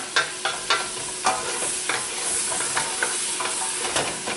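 Vegetables for a cheesy baked potato corn chowder sizzle steadily in a pot under a continuous hiss, with repeated sharp scrapes and clacks of a spoon stirring them, close by and with no talking.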